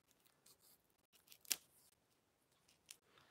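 Scissors snip through zipper tape and mesh fabric in a quiet room, with a few faint soft cuts and one sharp, louder snip midway.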